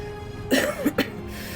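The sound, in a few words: coughing while laughing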